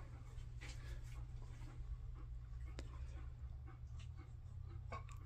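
Several dogs panting and shuffling about in a back area, with soft breathing, faint whimpers and scattered movement sounds under a steady low hum.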